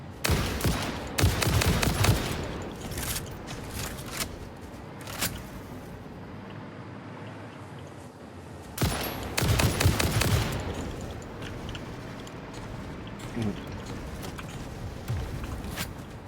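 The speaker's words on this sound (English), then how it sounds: "Ran out of ammo as I'm getting shot at." Gunfire in Satisfactory comes in loud, rapid bursts with a quieter stretch between them, close and dominant, with no talking.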